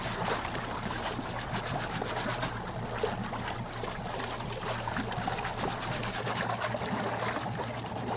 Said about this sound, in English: perform the hand extraction of the mycorrhizal spores into the water, releasing the spores into the solution